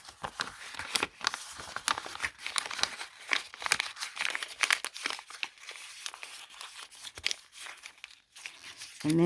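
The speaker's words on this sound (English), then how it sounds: "I mean, it's just creasing paper" Sheets of paper being crumpled, creased and kneaded by hand for momigami, giving a continuous close run of crinkling and crackling bursts with brief pauses, quiet and without talk.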